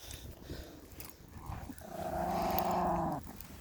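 A small dog behind a walker on a morning walk gives a low, fairly faint growl that rises into a sustained snarl for about a second before stopping, with outdoor background noise around it.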